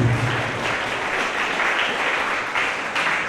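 Audience applause following a traditional dance performance at a school Christmas celebration, a dense, steady wash of many hands clapping together, loud and sustained throughout with no voices over it.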